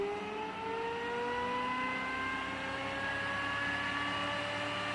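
An 8-coil pulse motor spins up, its steady whirring tone rising slowly in pitch as it gains speed, faint and alone without talk.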